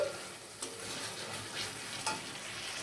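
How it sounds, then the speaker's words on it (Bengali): Spices for meat are sautéed in oil in a wok, giving a steady close frying hiss broken by a couple of sharp stirring scrapes, with no voices. "কড়াইতে তেল দেওয়ার পর মাংসের জন্য প্রয়োজনীয় মশলা আমি দিয়ে দিয়েছি তেলে। এখন এটা আমি কষাচ্ছি।"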